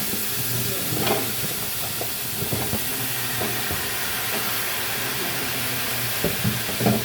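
Squash and other vegetables hiss and sizzle steadily in a hot pan, a continuous frying sound with occasional stirring clatters and light knocks, close and moderately loud with no talking.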